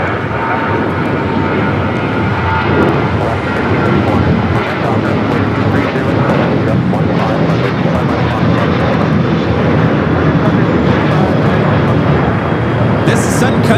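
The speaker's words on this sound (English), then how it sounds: "This is Sun Country Airlines 8728 taking off to St. Louis on the 737-800" A Sun Country Airlines Boeing 737-800 takes off from Los Angeles International bound for St. Louis, a loud, continuous engine roar with a voice speaking over it.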